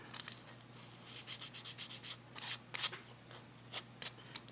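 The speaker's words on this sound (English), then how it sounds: "Finish up a little bit of sandpaper" Sandpaper rubs a wooden Native American flute block in soft, close, faint strokes, a series of quick irregular scratchy passes with a few sharper ones near the end.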